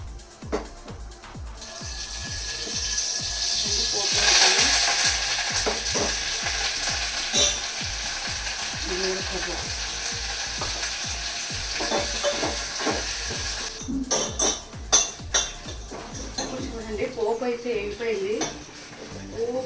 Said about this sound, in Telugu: ఇలా పోపు వేగినప్పుడు సౌండ్ వస్తుంది చూడండి